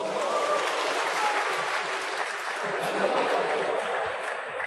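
Steady, dense applause from a large snooker crowd, loud and continuous throughout with no gaps and no voices.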